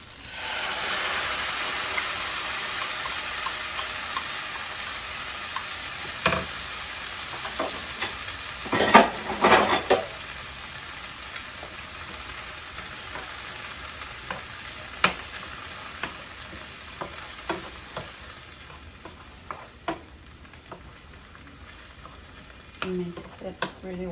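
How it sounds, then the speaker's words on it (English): Tomato and green onions frying in a pan, a loud sizzle that gradually fades while a utensil stirs and scrapes with scattered knocks and clatters. "Once the green onions look like this, we can add the tomato."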